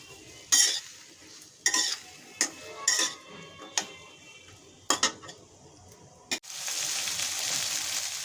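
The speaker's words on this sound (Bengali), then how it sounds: "এখন আমি বেগুনগুলোকে ভেজে নেব।" Eggplant pieces frying in oil with a little turmeric and salt, stirred in a pan, giving a series of sharp clinks and scrapes of the utensil against the metal, followed by a steady sizzle near the end.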